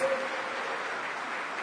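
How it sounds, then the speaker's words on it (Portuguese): Church congregation clapping together in a steady, dense wash of applause, sustained and fairly loud throughout with no voices standing out. "Quem pode dar um aplauso para Jesus?"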